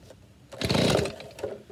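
A small two-stroke gas leaf blower engine, primed and choked, catches with a short, loud, rising buzz that lasts about half a second, then drops back to a softer idle sputter.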